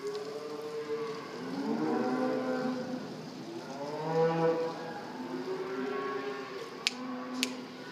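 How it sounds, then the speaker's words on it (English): Angus heifers moo in a pasture on a hazy day, several long, fairly distant calls overlapping one another, with a couple of sharp faint clicks near the end. "Fancy front pasture kind of cattle. 13 Angus Heifers."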